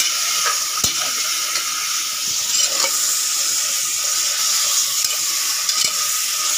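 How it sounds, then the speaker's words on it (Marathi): Goat mutton fries in oil inside a pressure cooker, giving a steady close sizzle with occasional stirring scrapes and clicks throughout, no voices. "हे फ्राय करून घ्या।"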